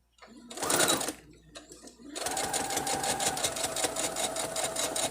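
A sewing machine stitches the seam of a fabric face mask, starting with a short burst, pausing briefly, then running in a steady, close, continuous whir with no one talking.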